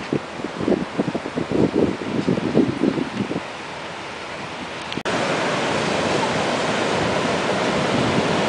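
Ocean waves wash at the beach as a steady, close hiss of surf, with a louder surge in the second half after an earlier stretch of rustling.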